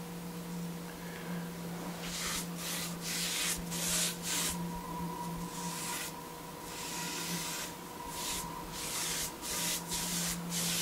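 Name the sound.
sanding painted wood surfaces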